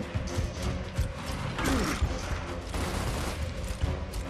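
Rapid bursts of gunfire and mechanical weapon clatter from a Gears of War Ultimate Edition campaign firefight on Insane difficulty, dense and continuous, with a brief faint voice in the middle.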